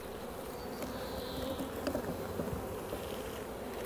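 Honey bees buzz at an open beehive, a dense, steady hum of many insects close by with no voices over it.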